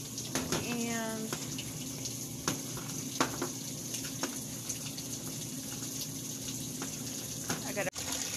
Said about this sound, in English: once that fills up, I'll load the clothes in there and start my laundry.